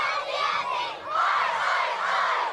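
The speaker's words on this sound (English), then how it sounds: "Riverside Primary School cheering on its alumni at the Olympics." Riverside Primary School children cheer on former students competing at the Tokyo Olympics, a loud, close crowd of young voices shouting and whooping in two sustained swells.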